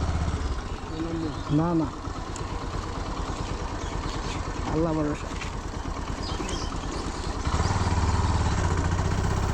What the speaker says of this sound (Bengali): আজ না হয় মাটির রাস্তাতে একটু বাইক চালিয়ে দেখছি কেমন লাগে